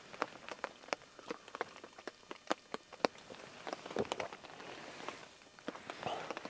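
Rain patters steadily on a surface at a campsite on Crown land, with sharp scattered drops landing close by in an irregular rhythm over a soft hiss, the weather on the edge of turning to snow.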